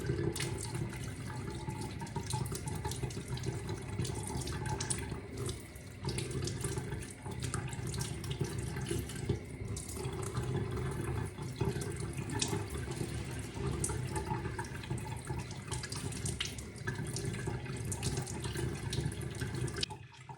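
A kitchen tap runs continuously while gluten dough for fishing bait is washed under it, a steady close rush of water splashing into a sink with only small shifts in the flow and no speech.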